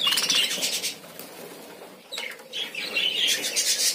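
Many small birds chirping in a breeding aviary, a busy overlapping chatter of high tweets with fluttering wing sounds, dipping briefly in the middle before picking up again.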